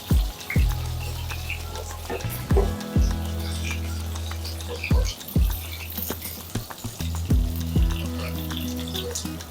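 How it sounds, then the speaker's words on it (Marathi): Four medium tomatoes cut in half and placed in hot oil with whole spices, each piece landing with a sharp crackle and then a steady close sizzle, about five drops in a row with handling knocks, no voices. "आणि हे मी चार मध्यम आकाराचे टोमॅटो दोन दोन भाग करून घेतलेले आहेत ते आता ह्या तेलामध्ये घालूया"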